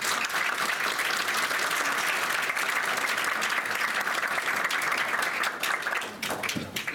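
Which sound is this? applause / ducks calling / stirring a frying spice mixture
applause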